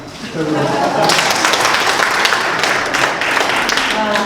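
An audience at a Busan-Ulsan-Gyeongnam megacity policy debate breaks into sustained applause, a dense, steady roar of clapping filling the hall for several seconds after a speaker briefly finishes.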